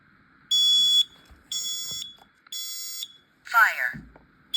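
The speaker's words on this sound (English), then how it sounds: "I'm gonna cover up the sounder because it's honestly" A smoke alarm with its sounder covered gives three muffled, evenly spaced loud beeps close by, followed by a short electronic voice call.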